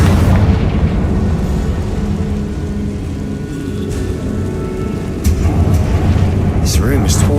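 Spell explosions and booming blasts from a wizarding video game, a dense continuous roar of rumbling impacts with several sharp bursts near the end, loud and steady throughout.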